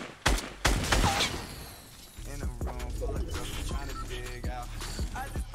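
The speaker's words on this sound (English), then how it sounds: "there's shots to my southwest" Distant gunfire pops in bursts in the Fortnite battle royale, a few sharp shots early, then scattered quieter fire over a steady in-game background, with no voices.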